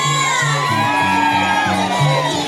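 A loud crowd at a family party shouts, whoops and cheers together for the single girls, a dense mass of excited voices with a steady pulsing music beat underneath.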